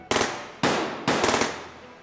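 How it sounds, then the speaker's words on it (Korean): Several gunshots ring out as a sound effect in a horror radio drama: three loud, sharp bangs spaced about half a second apart, each trailing off in a long, echoing decay. "곧이어 수발의 총성이 울려 퍼졌다."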